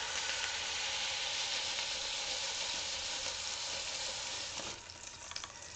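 Burger patties with onions frying on a griddle, a loud, steady close sizzle that fills the whole stretch and dips slightly near the end, with no talking.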